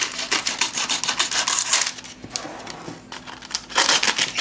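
Scissors snip down parchment paper along the side of a baking pan for pumpkin bars, a close series of crisp rustling cuts and crinkles with a short pause midway.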